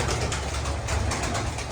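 Prize-winning racing pigeons coo softly and continuously at close range, a steady low murmur over a dense background of rustling and ambient noise.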